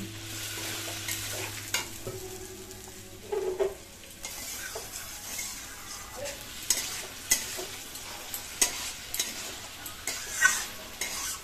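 Spiced kohlrabi is stirred and fried in a pan with turmeric water, giving a quiet background sizzle broken by repeated scraping and knocking of a spoon against the pan.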